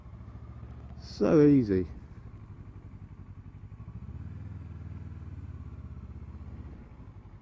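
A 2014 Kawasaki Versys motorcycle rolls slowly through figure-of-eight turns, its engine a soft, steady low rumble that idles along. A rider speaks briefly near the start.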